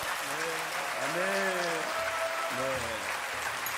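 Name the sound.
audience applause welcoming a guest pastor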